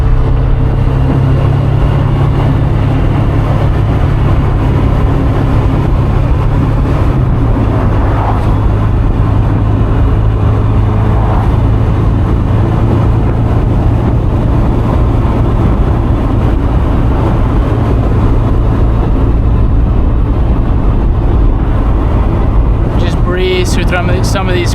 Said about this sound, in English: A little heel toe downshift. Back on the throttle.